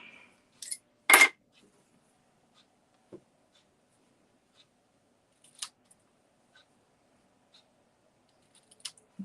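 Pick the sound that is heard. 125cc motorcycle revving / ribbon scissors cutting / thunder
ribbon scissors cutting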